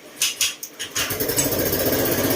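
A Honda Click 125 scooter in need of an engine overhaul cranks with a few push-button starter bursts, then catches and runs with a rough, uneven putter close to the microphone.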